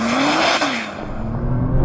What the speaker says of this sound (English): I'm just going to left foot brake, floor the throttle, release the brake.